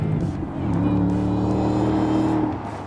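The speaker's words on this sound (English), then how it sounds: "we can't forget about the supercharged V8 engine making those beautiful sounds" The 810-horsepower supercharged V8 of a 2025 Shelby GT350R with a 3-liter Whipple supercharger revs loudly nearby, its deep rumble rising and holding with a steady supercharger whine before easing off.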